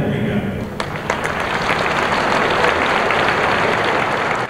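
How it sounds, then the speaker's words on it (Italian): Long applause from a crowd at the Tecnopolo in Bologna as the Italian President enters, sustained clapping throughout with a news presenter talking over it. "E così, con un lungo applauso,"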